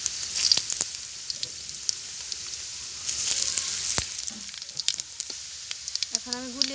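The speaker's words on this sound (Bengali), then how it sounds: "এখন আমি গোটা জিরে দিয়ে দিচ্ছি।" Whole cumin seeds hit hot soybean oil in a wok beside fried onions, crackling into a lively sizzle with sharp pops and spits. A short voice surfaces near the end.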